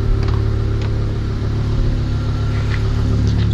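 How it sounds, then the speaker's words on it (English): A 2004 Chevrolet Colorado engine rumbles steadily up close, a low continuous drone with no clear rise in pitch, alone without talk. "Give it a rev."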